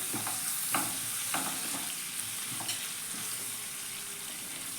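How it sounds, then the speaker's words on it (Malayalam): Crushed garlic and ginger frying in hot oil in a pan, stirred now and then: a steady close sizzle runs throughout, broken by several soft scraping stir strokes. "ഒരു 5-10 വെളുത്തുള്ളി ചതച്ചത് ഈ ചൂടായ എണ്ണയിലേക്ക് ഒന്ന് ഇട്ട് കൊടുക്കുന്നുണ്ട്. അപ്പോൾ അതൊന്ന് ജസ്റ്റ് ഒന്ന് ഇളക്കി കൊടുക്കാം നമുക്ക്"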